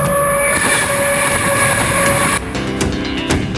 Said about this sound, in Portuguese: Atualmente, o Expresso para Lhasa avança através da China Oriental Industrial a mais de 110 km por hora.